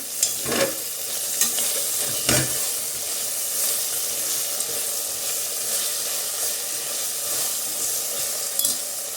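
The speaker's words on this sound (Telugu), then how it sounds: "ఆనియన్ కూడా ఫ్రై అయిపోయింది కలుపుకున్నాం" Fried onions stirred and mixed in a pot for a country chicken pulao, with a steady close sizzle and spoon scrapes, including a couple of sharp knocks near the start and one near the end.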